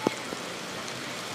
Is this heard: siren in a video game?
no